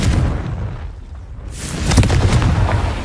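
The Confringo fire spell explodes in the Hogwarts Legacy video game with heavy booming blasts, one burst at the start and another swelling a moment later, loud and close with a rumbling tail.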